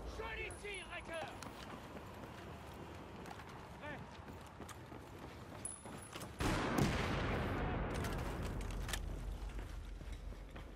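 Rocket launcher blasts and gunfire in Battlefield 4's Singapore mission: scattered bursts of shots, then a loud blast that trails into a sustained rumble, with voices speaking over the combat.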